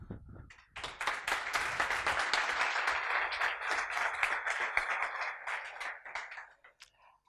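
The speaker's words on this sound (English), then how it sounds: "please have a strong applause for them." An audience at a DrupalCamp talk bursts into applause, a crisp burst of many hands clapping that rises quickly, holds for several seconds and tapers off with a few last claps.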